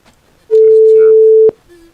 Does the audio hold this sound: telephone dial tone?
yes